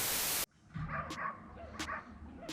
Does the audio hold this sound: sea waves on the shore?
no